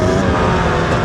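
A 2-stroke 300cc motorbike engine at full throttle, loud and close, with a dense, raspy, continuous roar that fills the whole short moment.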